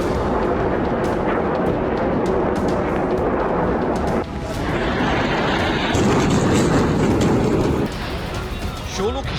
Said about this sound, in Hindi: रात के वक्त आसमान मिसाइल उगल रहा है